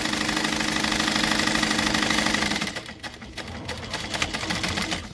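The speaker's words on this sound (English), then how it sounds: "I'm stitching on those 2 lines I just drew" A sewing machine set to a short 3-stitch length stitches two lines on a bag with a fast, steady whirring for a few seconds, then stops. Softer handling clicks and rustles follow.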